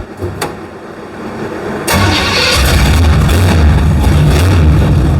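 A hot rod's loud engine cranks and catches after a couple of clicks, then settles into a rough, throaty idle close by.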